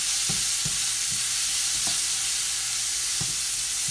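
Onions frying loudly in a pan with Colombo spice powder, a dense, constant sizzle broken by several spaced scrapes and taps of a spoon stirring against the pan.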